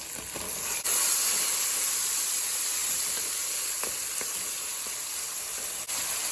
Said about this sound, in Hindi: अदरक लहसुन भून चुका है। अब हम इसमें 1 अदद टमाटर डालेंगे इसमें।